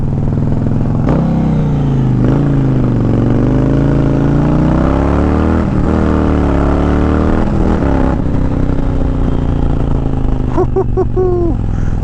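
A 2020 Indian Challenger Dark Horse motorcycle engine runs loud and steady with a deep rumbling drone, rising and falling as it revs, with wind noise around it.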